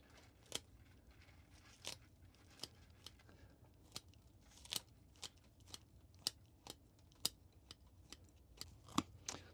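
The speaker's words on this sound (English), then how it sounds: "I just bring my scissors in here and we want to flatten out this bottom right here." Scissors snip repeatedly through the roots of a juniper bonsai during repotting, sharp crisp cuts spaced about a second apart, close and fairly quiet with little else around them.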